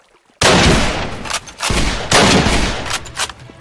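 Bursts of gunfire in a Minecraft zombie-apocalypse roleplay game, loud and close, with rapid repeated shots in two sustained volleys separated by a brief lull.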